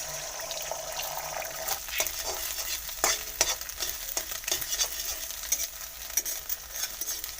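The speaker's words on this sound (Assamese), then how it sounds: "তেল গৰম হৈ গৈছে, এতিয়া মই ডিমকেইটা প্ৰথমে তেলত দি ভাজি ল'ম।" Eggs frying in hot oil in a home kitchen for an egg and tomato dish, a steady crackling sizzle with clinks and stirring scrapes from a utensil rising above it.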